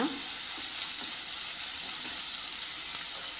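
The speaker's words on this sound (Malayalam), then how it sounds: "നന്നായിട്ട് വഴറ്റി കൊടുക്കുക ഫ്ലെയിം ഒരു മീഡിയം ഇതിലിട്ടാൽ മതി" Onions sautéing over a medium flame in a pan for a jackfruit cutlet, a steady soft sizzle and crackle running throughout with no one talking.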